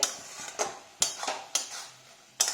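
Prawn paratha filling with onion and tomato being stirred in a pan, several distinct metallic clinks and scrapes of a spoon against the pan at irregular intervals, close and clear.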